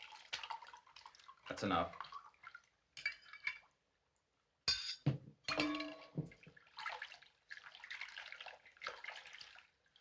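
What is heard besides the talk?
rum being poured into a container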